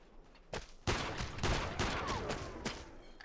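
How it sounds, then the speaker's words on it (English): Enemy gunfire in a video game during an invasion of a run-down city: sharp individual shots crack out at uneven intervals, some close and loud, over a background of rumbling battle noise. "I'm getting shot at."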